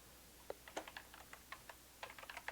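Typing on a computer keyboard during a C++ programming class: a faint, irregular run of quick key clicks, some in short bursts, with no talk.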